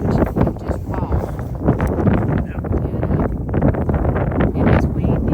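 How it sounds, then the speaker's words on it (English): Strong wind buffets the microphone outdoors on open Wyoming public land during a pronghorn antelope hunt, a loud continuous roar and rumble filling the whole stretch with gusty surges. "I mean, the wind is something else."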